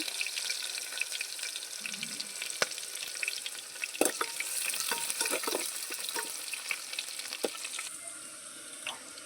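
Onions fry in a pan with mustard seeds, a lively crackling sizzle punctuated by sharp pops and scraping stirs, close and moderately loud, settling into a softer hiss toward the end.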